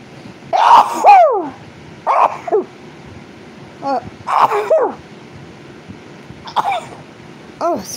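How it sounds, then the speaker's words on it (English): A person sneezes and coughs in several short, close bursts spread over a few seconds, with throat noises between them and no other talk. "oh, I'm going to sneeze."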